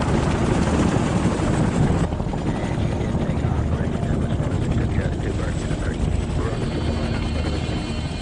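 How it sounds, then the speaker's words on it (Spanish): American military helicopters flying toward a landing zone during the Vietnam War, a steady, loud rotor roar that continues throughout with no break. "los primeros helicópteros americanos despegaron y comenzaron el vuelo de 13 minutos hasta la zona de aterrizaje"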